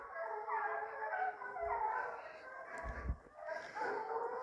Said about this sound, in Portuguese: Bonito pulou na frente, cachorro do Gustavo.